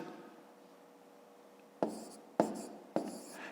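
Numbers being written for long division, probably chalk on a board: three short, sharp scratchy strokes close by after a quiet pause, with no talking.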